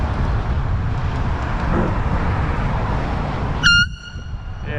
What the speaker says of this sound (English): But as I honk it more and more, the sound gets better.